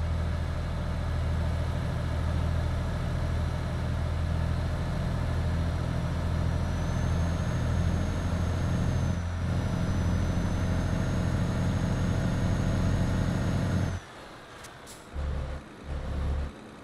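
A truck engine in Euro Truck Simulator 2 idles with a low, steady rumble for a long stretch, then cuts out, leaving a few brief faint knocks.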